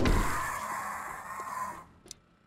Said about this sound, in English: Oh, I hear another bird.